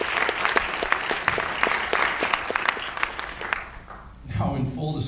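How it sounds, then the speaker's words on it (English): A small group applauds the branding commission, with sparse, clearly separated claps at a steady pace that fade out before a voice begins speaking near the end. "I want to make sure we give them a round of applause"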